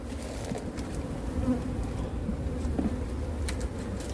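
Honeybees drone in a steady, close hum around a weakened colony in a hive inside a pepper greenhouse, with small scattered buzzes of individual bees rising over the continuous murmur.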